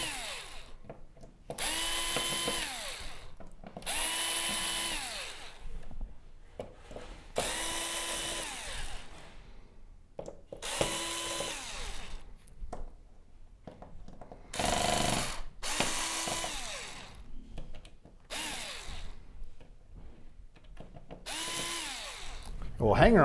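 Cordless power drill whirring in repeated bursts of a few seconds each, about eight in all, as screws are backed out of the power supply board of a Samsung UN65JS9000F television with a no-power fault, close and fairly loud with short pauses between.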